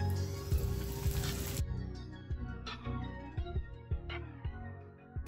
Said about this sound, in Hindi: तेल हमारा गर्म हो गया है और अब हम इसमें एक एक करके ये कर्ड पफ डालेंगे